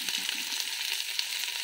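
Whole spices such as cinnamon, cloves, cardamom, bay leaf and star anise crackle in hot oil, a bright close sizzle with tiny popping bursts over the brief moment.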